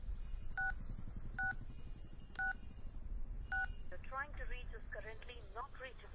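Four dialing tones beep on a phone at even intervals, clear and close over a low rumble, then people talk.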